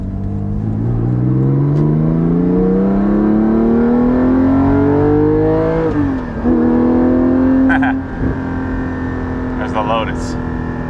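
Toyota GT4 sports car engine under way, a loud continuous drone climbing steadily in pitch through the gears, dipping briefly at a shift and then pulling again, close and constant throughout.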